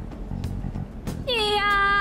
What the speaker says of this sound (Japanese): 猫の声には敏感でね